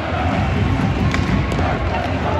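Rival hockey fan sections in a Finnish Liiga arena chant against each other, a dense, steady roar of crowd voices with drum thumps and occasional whistles, loud and continuous.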